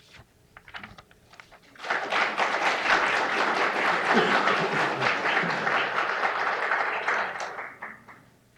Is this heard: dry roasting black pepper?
no